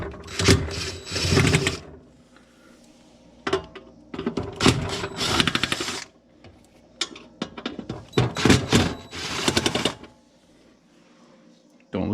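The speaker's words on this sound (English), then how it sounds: "you can take a 1/4 inch socket and remove these bolts." A 1/4 inch socket works the bolts out of an ice maker assembly. Loud mechanical whirring comes in several separate bursts, each a second or two long, with short pauses between them.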